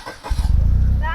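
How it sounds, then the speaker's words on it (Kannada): A motorbike or car engine at a resort car park rumbles close and loud after a brief moment, holding a steady low idle while people talk over it. "ಗಾಡಿ ಪಾರ್ಕ್ ಮಾಡ್ತಾ ಇದ್ದಾರೆ ಈಗೆಲ್ಲರೂ"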